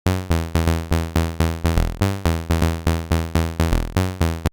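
Serum synth bass line modeled on a remix: a loud, harmonically rich plucked bass pulsing in a steady rhythmic pattern of short, decaying notes, with no voices.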